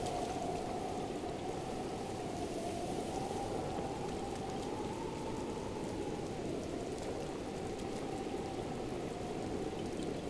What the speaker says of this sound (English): Protected from the rain, I guess?